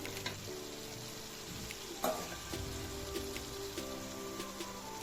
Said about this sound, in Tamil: அந்த தக்காளியை நல்லா வதக்கி விட்டுட்டு அரைச்சி விழுதையும் வதக்கிட்டு